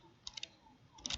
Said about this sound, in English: So we're going to type interface